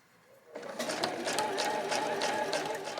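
A sewing machine stitches the fabric of a gusseted body bag, starting after a brief quiet moment and then running in a steady, close rapid whir with a rhythmic needle clatter.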